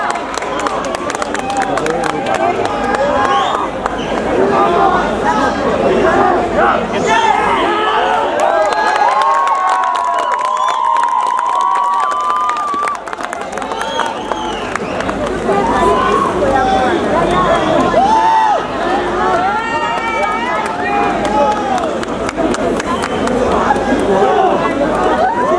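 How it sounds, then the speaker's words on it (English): Audience at the ShiRock 2022 rock competition result declaration in India, cheering, shouting and clapping continuously for a long stretch, a close, dense crowd roar with excited voices and whistles throughout. "A round of applause once again, ladies and gentlemen."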